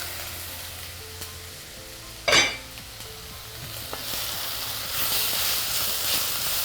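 Kerala-style papaya stir fry with grated coconut sizzles in a pan, giving a steady hiss that swells louder toward the end after a single sharp clank of the lid or spoon.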